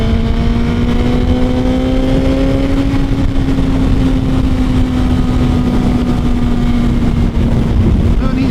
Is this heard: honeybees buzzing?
no